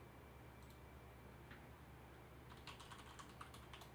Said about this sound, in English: wrong keyboard, tapping on the hosting computer.